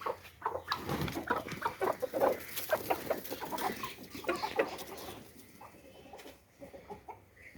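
Chickens being let out on a farm cluck and call in a lively cluster near the listener, with scattered bird calls and rustling that thin out toward the end.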